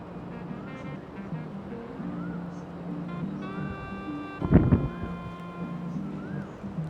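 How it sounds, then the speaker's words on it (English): Wind gusts across the high rooftop of the Millennium Hilton overlooking Bangkok, a constant low rumble buffeting the microphone with faint voices in the background and a brief louder gust near the end. "Quite windy up here."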